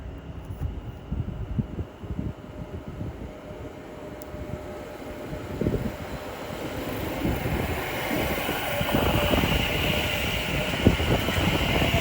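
A London Northwestern Railway train runs past at Watford Junction on the West Coast Main Line, a broad rumble of wheels and traction noise that grows steadily louder and brighter over twelve seconds, with rhythmic rail clatter.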